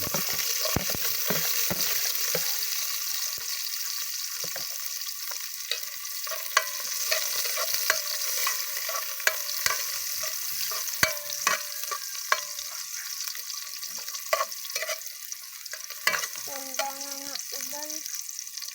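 Chicken sizzles in a hot pan while being stirred, a steady frying hiss broken by frequent scraping clacks of a utensil, close up, with occasional brief talk.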